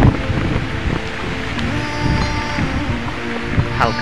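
Strong cyclone wind from Cyclone Remal roars in a steady, close broadband rush with gusts, mixed with light rain and rustling trees in flooded surroundings.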